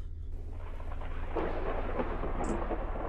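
Thunder rumbles through a storm in a horror video game set in a haunted house, a rolling, fairly loud crash over steady rain hiss and a low constant hum.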